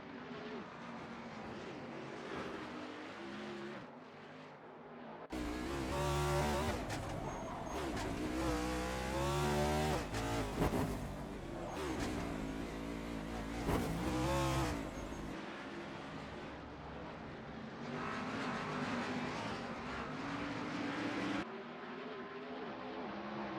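Race car engines in a racing video game at the Circuit of the Americas (COTA) drone and roar continuously, swelling louder as cars pass close through a turn, then easing back to a steady engine hum.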